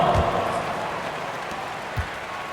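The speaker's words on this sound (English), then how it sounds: "give them a round of applause" A crowd applauds the Young Bucks dancers at a Milwaukee Bucks basketball game, a soft, diffuse, continuous patter of clapping heard faintly.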